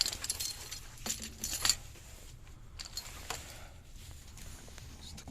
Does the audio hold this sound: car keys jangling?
yes